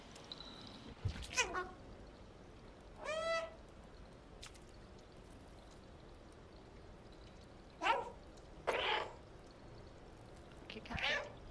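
A cat meows in the game Stray, several separate mews and trills spaced out over quiet ambience, moderately close, with someone speaking softly once.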